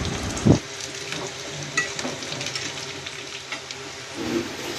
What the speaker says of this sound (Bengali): পেঁয়াজ বাদামি রং হয়ে আসলে কয়েক টুকরো আলু দিয়ে ভেজে নিলাম